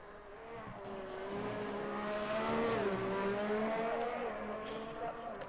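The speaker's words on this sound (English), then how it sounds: "Engines coming down the back straight and the other Alfa Romeo." F1 race car engines from a racing video game, Canadian Grand Prix circuit, droning continuously with rising and falling pitch as cars run down the back straight, steady and fairly loud with no talk.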